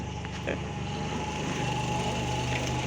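A four-cylinder car engine idles at roughly 750-800 RPM, giving a steady, even low hum with a faint mechanical whine that stays constant and close throughout.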